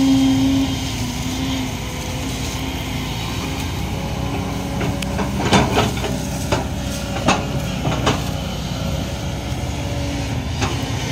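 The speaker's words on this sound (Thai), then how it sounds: "รถขุดโกเบโก SK 200ขีด10" A Kobelco SK200-10 excavator works in a canal, its engine rumbling steadily while a few metallic knocks and clanks break through in the middle.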